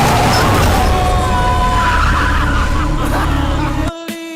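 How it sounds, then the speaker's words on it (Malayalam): In a movie accident scene, a lorry bears down on a Royal Enfield motorcycle with loud skidding, tire screech and engine roar, ending in an abrupt cut and a sharp impact thud near the end. "ചിത്രത്തിലെ ഒരു ആക്സിഡന്റ് രംഗമാണിത്."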